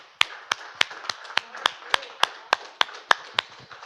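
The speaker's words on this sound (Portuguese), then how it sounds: "Com palmas ao Senhor." Church congregation clapping together in a steady unison beat, about a dozen sharp claps spaced roughly evenly, close and clear with a faint murmur of voices underneath.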